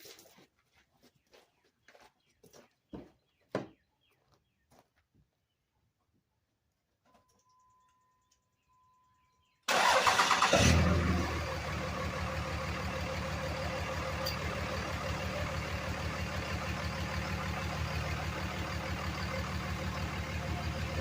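After faint scattered clicks and near silence, a 2003 Dodge Ram Cummins diesel pickup engine cranks and catches abruptly, then settles into a loud, steady rumbling idle close by.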